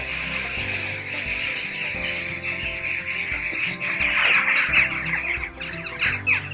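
A flock of around a thousand crows caws overhead in a dense, overlapping chorus of harsh squawks, loud and continuous outdoors.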